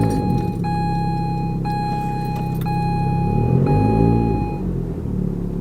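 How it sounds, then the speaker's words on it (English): A car with a fault gives off a loud, steady engine rumble, overlaid by repeated high ringing tones that start, cut out and return about four times, each lasting close to a second, with no talk. "One of which is fixing my car because it sounds like this."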